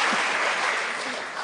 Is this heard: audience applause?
yes